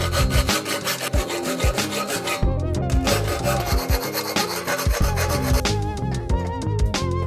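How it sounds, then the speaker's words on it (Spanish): Metal bicycle frame tubes are filed and shaped to fit together, with steady back-and-forth rasping strokes in a close, rhythmic pattern and no talk. "Ahora hay que darle forma a estos tubos para que encajen bien en este otro."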